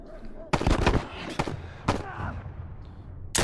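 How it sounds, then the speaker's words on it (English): Gunfire from two companion characters in a video game, several sharp shots spaced irregularly over a few seconds, fairly loud against a low game background. "Ellie and Henry will fire 4 bullets, or 3 or 4 bullets between them."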